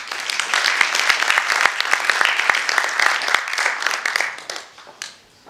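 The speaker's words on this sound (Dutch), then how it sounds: "Mag ik een hartelijk applaus?" A crowd at the opening of the ABFF film festival, held in the OBA library by Amsterdam Centraal Station, breaks into warm, sustained applause with crisp individual claps, then fades out over the last second.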